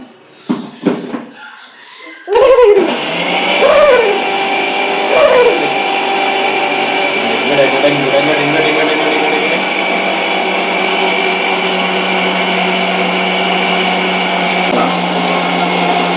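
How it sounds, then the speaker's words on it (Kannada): A mixer grinder grinding food in a home kitchen: after some brief knocks and a short voice, the motor kicks in loudly and runs in a steady, close whine, with a few bumps and a dip in pitch as it works. "ಇಟ್ಕೊಳ್ಳಿ ಮತ್ತು ಒಂಚೂರು ರುಬ್ಬಿಡ್ತೀನಿ"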